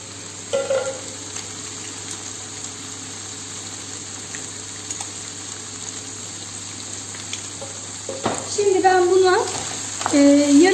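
Vegetables with mountain thyme and salt are stirred in a hot pan, giving a low, steady sizzle with occasional scrapes that swell into louder stirring and clatter near the end, and a voice speaks briefly.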